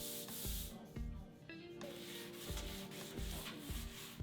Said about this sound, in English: Then we're going to sand the surface, just a light sand.